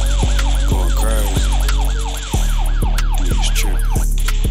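Wailing emergency siren effect in a rap track, a rapid rising-and-falling yelp repeating rhythmically over heavy bass and beat, loud and up front.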